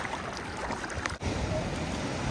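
Steady rushing Black Sea surf washes along a beach at Kurortne, Ukraine, a continuous broad roar with no voices.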